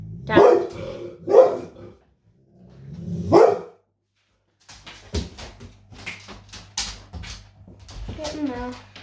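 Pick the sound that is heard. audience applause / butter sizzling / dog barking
dog barking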